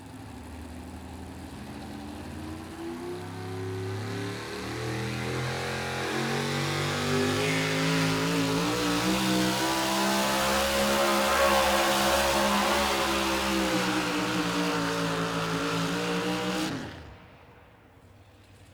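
Chevrolet truck named Killing Time, from Hedgeville, West Virginia, at a spring truck jam, its engine climbing from a steady rumble into a loud, sustained rev that holds for several seconds before cutting off abruptly.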